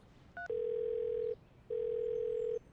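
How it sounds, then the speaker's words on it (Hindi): A phone call's ringback tone: a short dialing blip, then two long steady ringing tones separated by a pause, clear and fairly quiet against a faint background. "घंटी जा रही है, अभी उठने तो दो।"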